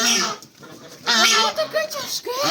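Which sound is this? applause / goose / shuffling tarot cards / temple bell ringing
goose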